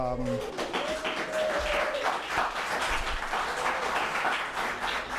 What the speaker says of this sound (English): we don't usually have clapping, do we?